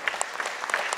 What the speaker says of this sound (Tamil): நல்லா எல்லாம் ஒரு வாட்டி நல்லா கைத்தட்டுங்க